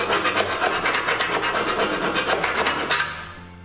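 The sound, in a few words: filing sharp edges off 4 mm cable tray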